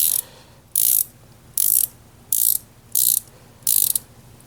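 A WorkPro ratcheting wrench clicking in six quick bursts, each a bright, fast run of clicks with short pauses between, close and clear with no talking.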